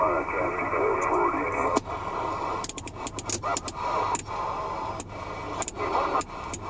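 A Cobra 148F-GTL CB radio receives on AM, giving steady hiss and static with crackly, broken bursts of distant voices coming and going through the noise.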